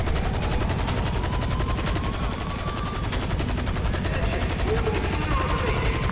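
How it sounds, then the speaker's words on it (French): Police helicopters thud overhead with steady rotor chopping while automatic gunfire rattles in rapid bursts in the video game Grand Theft Auto V, a dense continuous din with someone talking over it. "maintenant il faut semer les hélicoptères"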